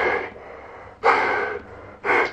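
Three loud, close breaths drawn through a Sundstrom SR100 half-face respirator fitted with filters, each a harsh, hissing rush of air about half a second long, separated by brief quiet gaps.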